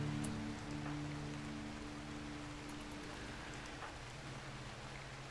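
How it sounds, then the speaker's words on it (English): Steady hiss of rain falling in the video game RimWorld, an even wash of noise with scattered faint drops, alongside a low sustained musical drone. "it did start raining"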